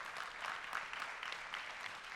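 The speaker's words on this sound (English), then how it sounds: "some applause for Epic" Soft, distant applause from a keynote audience, a brief continuous patter of clapping at low volume.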